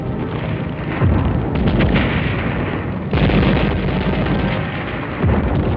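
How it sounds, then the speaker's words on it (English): Drums and barrels of gasoline and motor oil detonate inside buildings during the battle of Manila in wartime, a heavy continuous rumble broken by several loud booming blasts. "Barrels and drums of gasoline and motor oil were detonated by the Japs inside buildings from one end of Manila to the other."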